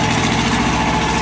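A tractor engine runs steadily in a yard, a loud, close, continuous idling rumble with no break.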